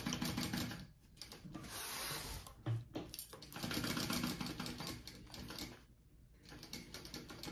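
Sewing machine stitching a seam in short runs, its rapid needle chatter starting and stopping with brief pauses between bursts, close and clear.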